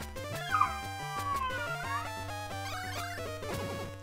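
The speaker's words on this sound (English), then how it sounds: "I'm being barked at." A puppy yips and barks repeatedly in short, high bursts, with some whimpering, heard over steady electronic music from a bootleg video game.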